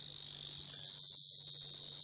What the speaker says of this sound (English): So that's the bug you hear screaming all the time.